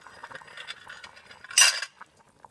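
Tomatoes going into a pot of cooking brown beans make soft metallic scraping and stirring, then a short burst of clanking utensil against the pot near the end, close and brief, with no speech.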